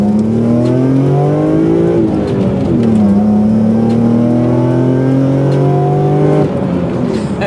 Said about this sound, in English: I forgot how much I like driving this vehicle.